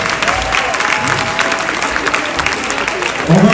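An audience claps together at a Congolese gathering, a continuous loud patter of many hands with crowd murmur, and a voice rises briefly near the end.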